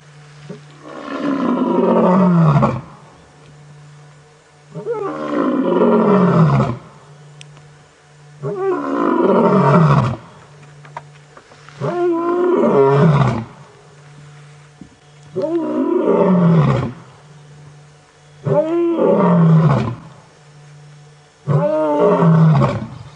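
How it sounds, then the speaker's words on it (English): A lion roars in a series of seven evenly spaced, powerful bouts, each swelling and fading over a few seconds, heard clearly on an evening safari drive in the African bush, with no talking. "I think there's another lion calling down to the south."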